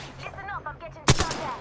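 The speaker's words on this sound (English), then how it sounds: "Listen up, I'm getting shot at." A single loud gunshot burst from the battle royale video game Apex Legends rings out near the end, after a stretch of in-game voice chatter.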